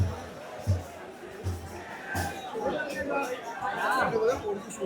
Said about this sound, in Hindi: तो यहाँ पर रात के इतने समय भी भयंकर भीड़ है।